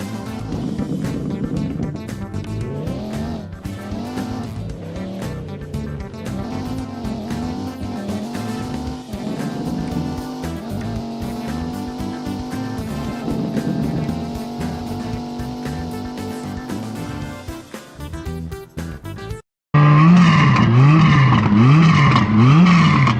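Engine of the 2013 Esperanza Hispano in a racing video game, a sustained loud revving drone with rising and falling pitch sweeps, then a brief cutout and a louder, buzzier stretch of revving.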